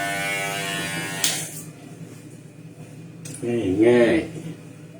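Electric hair clippers fitted with a size two guard buzz steadily during a self-trim in a bathroom, with a voice briefly speaking over the hum toward the end.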